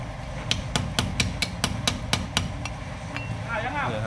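Hammer strikes knocking out a loose part during a bearing replacement on a car wheel hub with stretched bolt holes, about ten sharp, evenly spaced metallic blows close by, then a brief pause and a final tap, with faint background noise.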